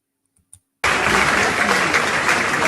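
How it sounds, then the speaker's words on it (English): Church members burst into loud, dense clapping after a brief near-silence, the applause continuing steadily and close at full strength to the end. "the church members were actually clapping"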